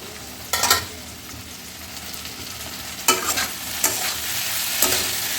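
A spatula scrapes and stirs in a frying pan where cooking sizzles softly, a few distinct stirring strokes over a steady hiss, heard close with no talking.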